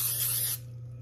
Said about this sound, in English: I like to just be extra sometimes, so I'm going to spray it